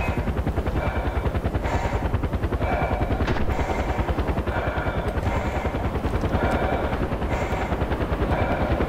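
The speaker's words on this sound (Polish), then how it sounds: "helikopter" Video-game helicopter in the Himalayas of Far Cry 4, a loud, close, steady thumping rotor chop pulsing throughout, with bursts of gunfire cutting in over it.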